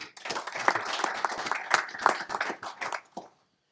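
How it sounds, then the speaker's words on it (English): Applause from a panel audience at a payments and remittance industry event, dense overlapping claps held steady for about three seconds before stopping abruptly, moderately distant and with no talk over it. "A warm applause for Osama."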